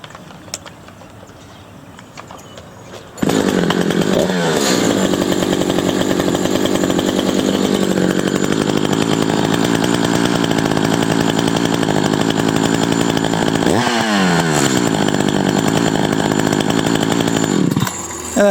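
An Echo CS-590 Timberwolf chainsaw starts up after a quiet stretch and idles loud and close, a steady buzzing drone whose speed rises slightly, with brief shifts in pitch partway through.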